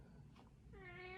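A pet cat lets out a single short meow, quiet and close, during playful moments indoors.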